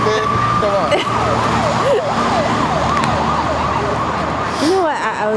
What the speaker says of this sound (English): That appears to be a fire engine.